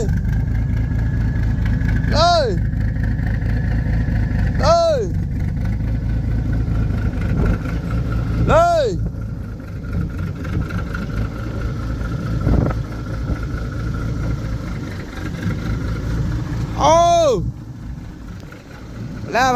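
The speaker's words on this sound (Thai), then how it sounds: "ดับเครื่องเลย" A car engine idles in a village in Buriram, Thailand, holding a loud, steady low hum throughout, while several rising chirping calls break in at intervals above it.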